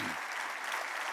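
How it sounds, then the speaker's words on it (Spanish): Church congregation applauding at a Sunday service, a steady wash of many hands clapping that is fairly quiet and continuous, with no talk over it. "Denle ese aplauso fuerte al Rey."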